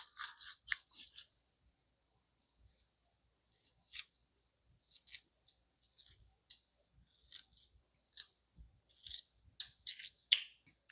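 Boiled eggs being peeled by hand, with soft crackling and crisp ticking shell fragments in irregular bursts, close and quiet with pauses between.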